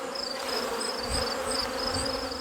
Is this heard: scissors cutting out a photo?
no